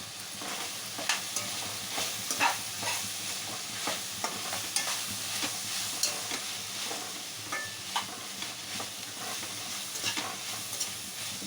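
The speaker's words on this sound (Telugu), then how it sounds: "ఆయిల్లో ఫ్రై అవ్వాలి. మధ్య మధ్య ఓపెన్ చేసి మాడకుండకు తిప్పుకుంటూ ఉండాలి." Capsicum and masala frying in oil for a curry, a steady sizzle with repeated scraping and clinking of a stirring spoon in the pan, no talking.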